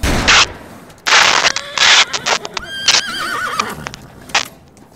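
In a wild west video game, a horse whinnies in a wavering, high call among short bursts of rustling and clattering effects, all close and fairly loud.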